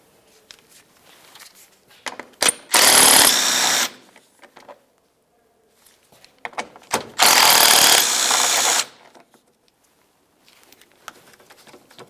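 A power tool spins out two 8mm-headed bolts on a 2003-2011 Mercury Grand Marquis fog light mount: two loud bursts of about a second each, separated by quieter handling clicks and clatter.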